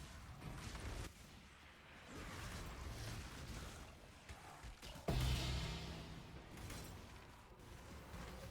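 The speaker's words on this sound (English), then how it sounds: "Your Herald of Ice is exploding, the Volcanic Fissure is exploding." Spell explosions from Herald of Ice and Volcanic Fissure in Path of Exile, a dense wash of overlapping bursts and crackles with a sharper, louder blast midway, continuing as busy game noise throughout.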